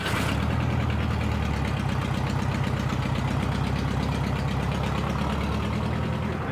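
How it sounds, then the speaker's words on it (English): Air-cooled vintage Volkswagen engine idling, a steady low rumbling chug with fine rhythmic pulses, loud and close throughout with no talk. "Keep the engine running at the same time."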